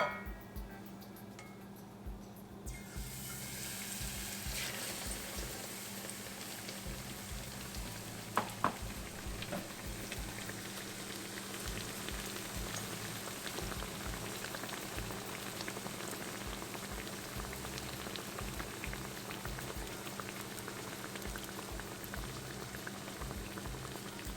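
Battered bread pakoda slices, an Indian fritter, sizzling and bubbling in hot oil after being lowered in; a steady, dense crackle of frying runs continuously and fairly close, with no talking.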